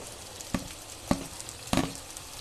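Tomato and onion frying in a home pan for egg bread upma, a soft steady sizzle broken by three sharp stirring scrapes spaced about half a second apart, close up with no talking.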